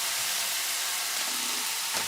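Bacon frying in a pan gives off a steady, dense sizzle and hiss that runs unbroken throughout, fairly close with no voices over it.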